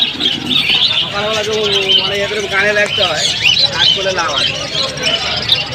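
Pigeons and other birds at a busy pigeon and pet bird market in Tala, Kolkata, with chirps and coos over a steady crowd hubbub while people talk nearby throughout.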